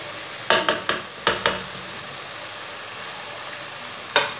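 Ginger and garlic paste frying in a pan, a steady close hiss of sizzling oil with several sharp scraping stirs near the start and one more near the end, no voices.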